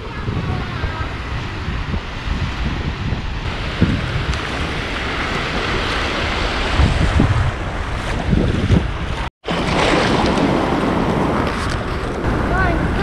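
Ocean surf at a beach in Da Nang, Vietnam, with a steady broadband wash of waves and wind buffeting the microphone, heard close and loud throughout, with a brief dropout near the end and faint voices beneath.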